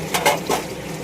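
Water is poured into a pot of chicken masala, making a short, close splashing gurgle that swells and fades within about a second, with no talking.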